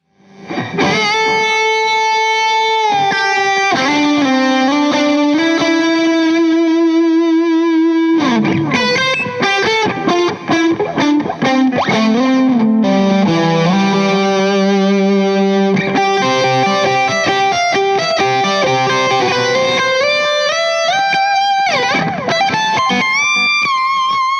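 An electric guitar solo plays alone through a Suhr PT100 amp plugin with distortion and reverb, with sustained bends and rapid phrases, loud and close.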